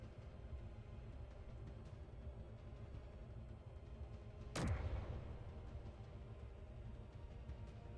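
A single heavy weapon shot fired at a turret in the game Space Engineers: one sharp, loud blast with a low rumbling tail, standing out from a steady background hum.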